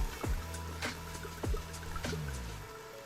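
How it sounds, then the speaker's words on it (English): Chianti Classico red wine is poured into a cooking pot for pot roast, giving a short liquid trickle and glug with a few splashy pulses up close. "Just pour about a half a bottle in."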